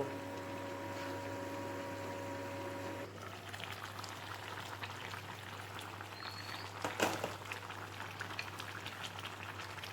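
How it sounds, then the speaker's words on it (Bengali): Meat simmers in a covered pot, a soft, steady bubbling and popping at low volume, with a faint steady hum underneath and one brief louder clatter partway through. "মাংসটা সেদ্ধ হচ্ছে"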